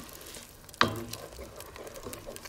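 Ale poured into a hot pan to deglaze the browned beef bits, a sudden sharp hiss that settles into a quieter bubbling sizzle, close and fairly soft.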